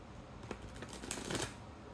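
A deck of tarot cards riffled and shuffled close up, a soft continuous flutter with a few crisp snaps, fairly quiet.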